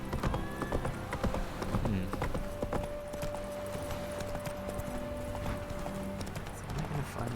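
Hooves of Roach, the horse in The Witcher 3, clop in a steady rhythm, close and clear, over game ambience with a faint brief whinny and a sustained tone in the middle.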